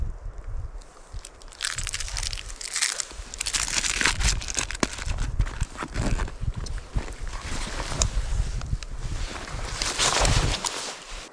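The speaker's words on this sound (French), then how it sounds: "Le vent, là il souffle fort, je l'entends bien." Strong gusty wind roars and buffets a microphone in uneven bursts, loud and continuous, with crinkling, rustling texture.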